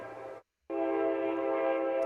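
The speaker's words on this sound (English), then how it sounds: "There's the sound of the train." Two sustained blasts of a sampled train horn played on a TX sampler, a short one then a longer steady tone after a brief gap, loud and close.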